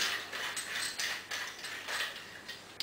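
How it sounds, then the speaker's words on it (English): A tri-fold bushcraft shovel's metal screw thread mechanism is loosened, giving quiet, close, rhythmic scraping and ratcheting turns, about five strokes in a row. "So it's loosening this so this screw thread mechanism goes as low as possible."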